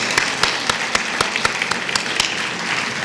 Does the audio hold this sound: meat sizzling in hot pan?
no